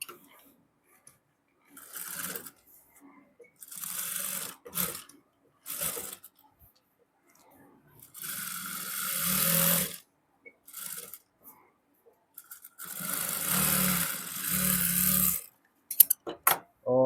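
A sewing machine stitches a salwar in several separate bursts of fast mechanical whirring, close and fairly loud, with short quiet gaps between runs.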